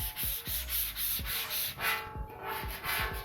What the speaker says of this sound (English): Doing a lot of this by scraping.